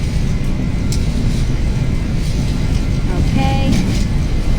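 A Boeing 737-800 in a flight simulator rolls down the runway for takeoff, its jet engines producing a loud, constant roar and rumble that never lets up, heard close and alone.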